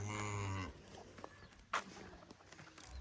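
A cow at a village home gives one close, drawn-out low moo lasting under a second, followed by quiet rustling and a single sharp knock.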